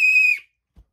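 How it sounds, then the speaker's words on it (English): A single loud, shrill whistle blast lasting about a third of a second, then silence apart from a faint low thump. "It's a good whistle."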